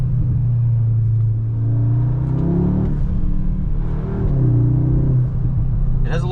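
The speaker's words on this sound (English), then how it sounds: "It has a lot of like the turbo or like the intake sucking noises." A 2024 Audi S3 8Y's engine hums and rises through revs from inside the car, a steady mid rumble with turbo and intake whoosh swelling and dropping, while a person talks over it.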